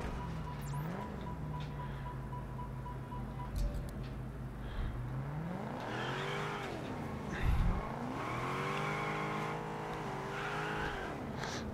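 A car driving in the video game Test Drive Unlimited Solar Crown, with a steady engine drone whose pitch rises and falls through gear changes and revs, plus brief tire noises, continuous at moderate level.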